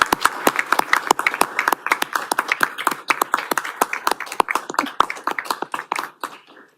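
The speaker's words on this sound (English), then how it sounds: "Let's give him a round of applause." A small group claps at a city council meeting, each pair of hands audible as a distinct sharp crack in a brisk, uneven patter that thins out and fades at the end.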